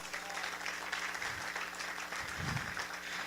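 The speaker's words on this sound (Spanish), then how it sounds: "Dele un aplauso al Señor." Worshippers in a church service applauding, a steady wash of clapping at moderate distance with low rumbling voices or music underneath, continuing evenly for a few seconds.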